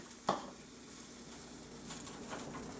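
A spoon clanks once against a pot, then oatmeal cake mixture is stirred with soft scraping and faint sizzling, quiet and close.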